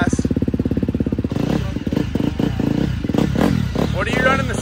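A dirt bike engine chugs rapidly at close range, then rises into revving as the rider pulls away, with people talking over it.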